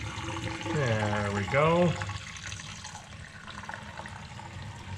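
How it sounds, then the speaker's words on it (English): Fuel pours out of a car's tank as it is drained during a six-cylinder to 289 conversion. A man's brief remark comes first, then a steady, hissing liquid stream continues on its own. "So we're just gonna go ahead and drain this tank."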